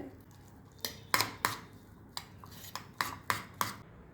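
A spoon mixes soaked chana dal and other payasam ingredients in a bowl, giving about eight separate clinks and scrapes spread unevenly over a few seconds, close up and fairly quiet, with no talking.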